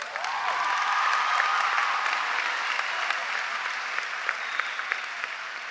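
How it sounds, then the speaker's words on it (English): Sustained applause from a large audience at the 2022 Boynton Beach Community High School graduation ceremony, a dense steady wash of clapping with scattered sharper claps, continuing evenly throughout. "Please give them a round of applause."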